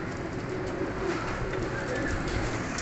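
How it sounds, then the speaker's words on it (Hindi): Sialkoti pigeons cooing softly in a group, a steady low murmur of overlapping coos over a constant background hum, close by and continuous without any talk. "सियालकोट ही चौंसरे कबूतर"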